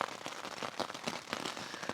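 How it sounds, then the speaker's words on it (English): Rain falls steadily under a forest tree canopy in Washington on the Pacific Crest Trail, with a dense patter of drops and heavier drips from the trees. The sound is even and fairly faint, and nobody speaks. "Probably sounds worse than it is because I'm under the tree canopy, so we've got the rain dripping off the trees as well"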